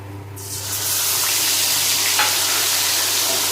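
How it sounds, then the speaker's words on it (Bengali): Steady, loud sizzling of grated onion frying in hot oil, rising as it settles into a continuous crackling hiss. "তেলের মধ্যে পেঁয়াজটা একটু ভাজা ভাজা করে নেব"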